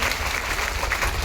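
Seminar audience clapping together in a large hall, a dense continuous wash of applause with crowd murmur, steady and loud throughout.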